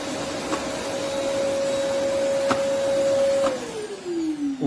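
A Rowenta Compact Power XXL corded bagless vacuum cleaner runs with a steady, loud motor whine close by. About a second before the end it switches off and the pitch winds down.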